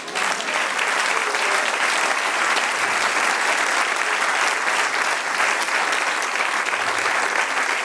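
Vigorous applause fills a church as the congregation claps together, a dense, bright, unbroken roar of many hands at constant loudness with a faint voice or two beneath.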